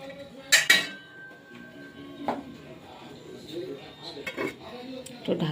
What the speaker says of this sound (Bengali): কয়েকটা কিছু বাসন টাসন আছে ধুয়ে নেব